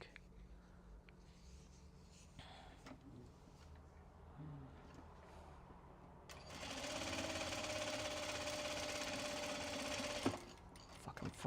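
A sewing machine stitches a scrap piece of fabric in a steady, close whirring run lasting several seconds, with quiet handling sounds and faint murmurs before it starts.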